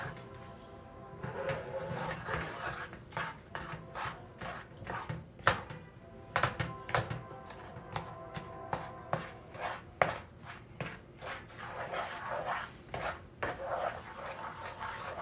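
Repeated scraping and clinking as fried apple ingredients with vanilla and brown sugar are stirred together in a pan, an irregular stream of close, moderately loud utensil strikes with no talking.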